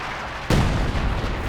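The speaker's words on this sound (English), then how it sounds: "More artillery" Artillery fire in the Company of Heroes 2 video game, a single sudden loud blast that lands mid-clip over constant battle noise and rolls out into a rumbling decay.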